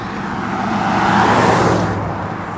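Vehicle noise swells and fades as a car passes on a rural dirt road in autumn. The broadband roar builds to a peak near the middle of the clip, then drops away, with nobody speaking.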